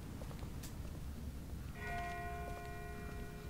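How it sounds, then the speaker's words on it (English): A distant bell rings in The Walking Dead video game, a faint steady tolling tone emerging partway through over a low ambient rumble. "That's not the same bell as before. This one's further off."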